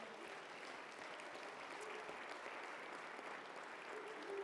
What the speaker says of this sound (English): Can we get a round of applause for those?